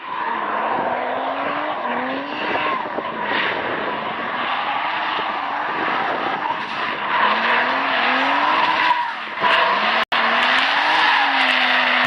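A rear-mounted turbo Nissan 350Z engine screams through repeated rising gear pulls on a track, loud and sustained, with tire noise and a sharp click near the end.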